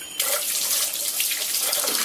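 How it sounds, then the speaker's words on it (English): Running tap water pours steadily over the string of faith beads as it is washed, a continuous close splashing flow that starts abruptly after a brief quiet moment, with no talking. "take some water, and you'll wash it"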